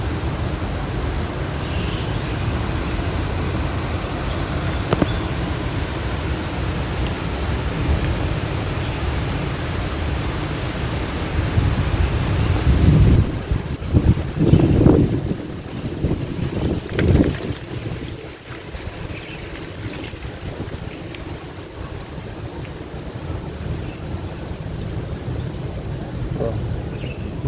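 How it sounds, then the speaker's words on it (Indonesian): Wind gusting through the dense tree canopy of a tropical botanical garden, a steady broadband rustle of leaves that swells into stronger gusts midway before settling back to a constant hiss. "Bunyi-bunyi barusan tuh bunyi pohon daun semua tuh"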